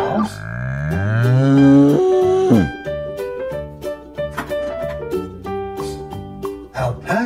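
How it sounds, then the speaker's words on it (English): Several loud, drawn-out cow moos, one after another, close by with a harmonic, bellowing tone. "Cows."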